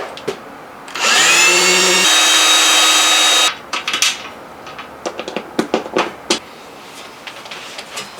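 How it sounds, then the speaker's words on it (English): A power drill whirs steadily for about two seconds at close range, drilling holes into a chair, then stops, followed by scattered knocks and clatters. "I'm just going to drill some new holes into this chair"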